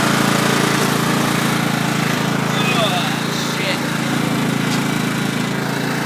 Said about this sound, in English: There's your lawnmower